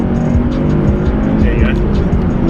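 A Honda Civic FN2 Type R engine revs hard from inside the car, its steady, loud drone climbing as it pulls into VTEC, with faint road noise underneath.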